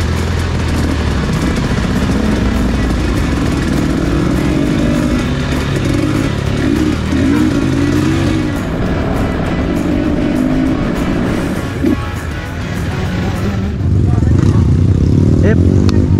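Trail motorcycles rumbling off-road in a group, engines droning and revving close by for a long continuous stretch, with a louder surge near the end and voices talking over the noise.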